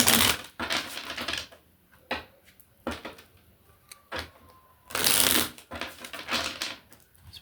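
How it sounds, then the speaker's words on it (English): Tarot cards being shuffled by hand in bursts of riffling and flicking, with louder flurries near the start and around five seconds, separated by short quiet pauses; no talking. "I will shuffle till the card feels right."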